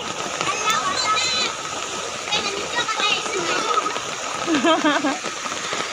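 Children splashing in water while bathing in the rain, a continuous wash of rain and splatter with excited kids' voices and adult talk mixed in throughout.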